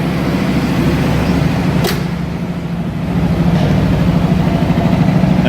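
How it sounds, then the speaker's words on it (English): A 1969 Chevrolet Camaro Z/28 engine idles high while still cold, giving a steady, loud, close low rumble with a constant throb and no voices. "Nice little rumble."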